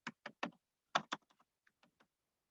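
Someone types a command on a computer keyboard, a quick burst of close, crisp key clicks that trails off into a few lighter, sparser taps in an otherwise quiet room.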